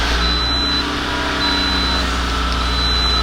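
A Toyota RAV4 engine idles high after its MAF sensor has been cleaned, giving a steady, close, continuous hum that stays even throughout with no voices over it.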